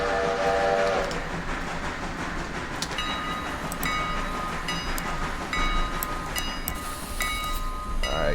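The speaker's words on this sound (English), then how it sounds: "I should have honked a little bit better than that" In the railroad video game Railroader a train horn sounds in repeated short honks over a continuous low rumble of the rolling train, loud and close, with no talking.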